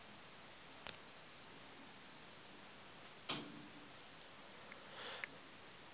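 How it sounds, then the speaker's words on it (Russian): Pairs of quick, high-pitched electronic beeps from a Casio G-Shock GA-100-1A1ER watch alarm repeat at a steady pace, roughly once a second, fairly faint, with a few soft clicks between them. "а вот можете слышать сигнал будильника"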